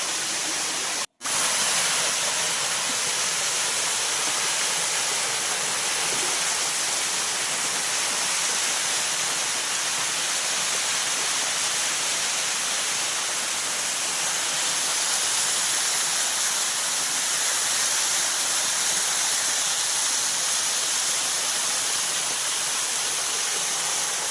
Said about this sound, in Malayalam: അടിപൊളി നല്ല ഹൈറ്റുള്ള ഒരു നല്ല വെള്ളച്ചാട്ടമാണ്.